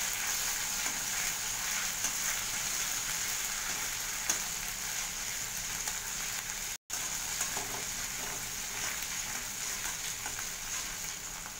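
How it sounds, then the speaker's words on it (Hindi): Ginger, garlic and chili paste fries in a pan with a steady, loud sizzle and occasional stirring scrapes, cooked briefly for a homemade idli manchurian, with a momentary dropout near the middle. "ये मैंने अदरक लहसुन मिर्ची का पेस्ट बना लिया है, इसे डाल दूंगी। कुछ तो सेकंड के लिए इसे भी हम पका लेंगे।"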